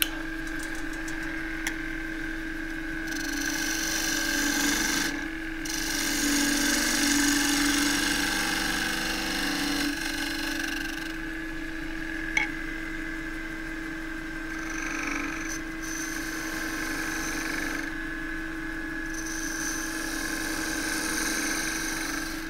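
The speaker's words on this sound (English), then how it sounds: "now I turn the foot off, turn away the chuck marks with a 3/8 spindle gouge" A wood lathe runs as a 3/8 spindle gouge turns the foot of a wavy casuarina bowl, removing chuck marks. There is a steady motor drone with a tonal hum and intermittent scraping cuts that swell and fade.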